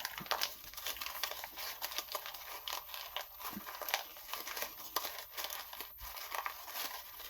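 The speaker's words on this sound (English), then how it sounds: "we're going to squash these all up." Brown paper bag being scrunched and squashed up by hand for a collage paper technique, giving a continuous close crinkling and crackling with frequent sharp rustles, no voices.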